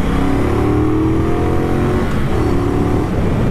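A 2019 Triumph Bonneville Bobber 1200 motorcycle pulls hard under acceleration, its steady engine drone rising in pitch for a few seconds, loud and close with no talk over it.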